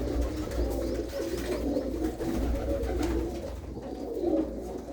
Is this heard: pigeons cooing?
yes